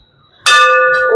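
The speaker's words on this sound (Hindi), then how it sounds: "चलो घंटी दबाओ" A bell rings out during a Hindu puja at a shrine, with a sudden bright strike and a sustained, shimmering metallic ring that stays loud and close.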